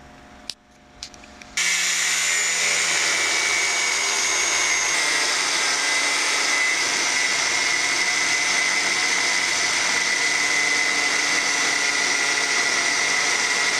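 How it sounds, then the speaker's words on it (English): An abrasive cutoff wheel slices through a stripped seat belt bolt on a 1978 Corvette, starting abruptly after a few faint clicks and then whining steadily and loudly, high-pitched and continuous, close by. "somebody stripped out this bolt before we got to it, so we'll have to cut it out with the death wheel"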